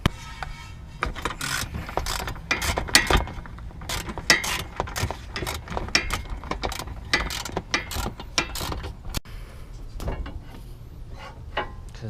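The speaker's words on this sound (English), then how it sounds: "I'll get the other bolts loosened up at the moment" Ratchet wrench loosening the suspension bolts on a Mazda RX8: repeated bursts of close, crisp ratcheting clicks, with short pauses between strokes and no speech.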